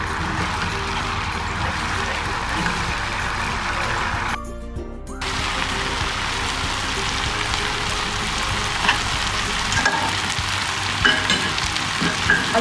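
Chicken lollipops fry in hot oil with a loud, continuous close-up sizzle and crackle, briefly cut out partway through, then resuming with small pops and bubbling.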